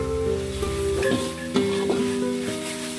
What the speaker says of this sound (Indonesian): Kita aduk sampai merata dalam tumisan.